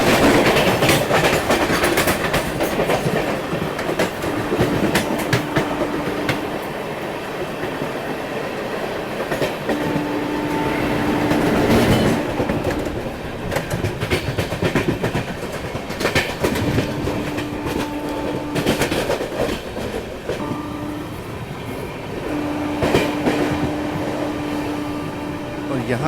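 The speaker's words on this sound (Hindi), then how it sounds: "बहुत देर तक ये पैसेंजर ट्रेन आगे गई नहीं, इसको ओवरटेक करते हैं यहाँ पे" The Delhi-bound ShivGanga Express from Varanasi runs at speed and overtakes a passenger train, giving a continuous loud rail rumble and wheel clatter with recurring steady tonal hums and occasional sharper bursts throughout.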